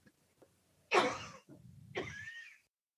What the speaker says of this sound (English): she's got a cough for whatever reason, just won't go away